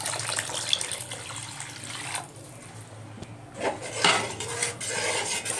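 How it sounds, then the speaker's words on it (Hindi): Water from a mug poured into a pan of fish curry gravy, a steady splashing pour with pan and utensil clatter, close and alone with no talk. "अब हम इसमें 1 मग पानी का डाल देंगे।"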